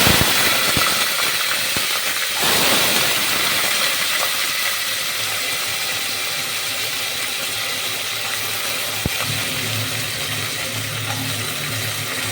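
Mustard seeds and curry leaves temper in hot oil while avarekai (field beans) are cooked, producing a steady, close sizzling hiss with light crackles throughout and no talking.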